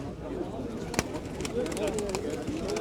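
Pigeons coo softly in repeated low warbles at a bird market, with a sharp tap and some background voices nearby.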